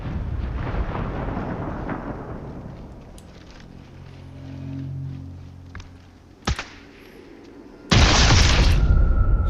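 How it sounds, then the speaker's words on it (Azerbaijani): Sniper rifle fire and impacts in the shooter game Sniper Elite 5: a booming report fades into a low rumble, followed by a couple of sharp cracks and a loud burst of noise near the end, with no talking. "Bunun beyni partladı."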